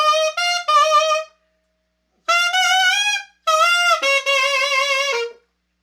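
Alto saxophone plays a gospel vamp line from a song going into the chorus, in three bright, close phrases separated by short pauses, solo and unaccompanied.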